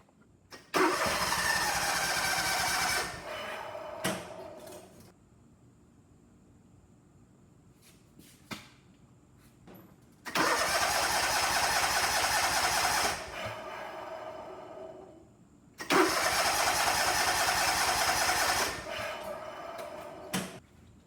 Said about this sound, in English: Guess we'll try starting it again.